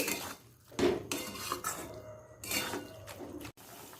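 A utensil scrapes and clinks in a pan while sugar is stirred into minced chicken for a chickpea dish, in quiet, irregular strokes with short pauses and no voices.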